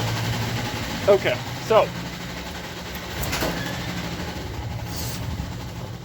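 The small engine of a 1987 Honda Spree scooter, freshly running after a carburetor cleaning, idles with a steady low putter close by while someone speaks briefly over it.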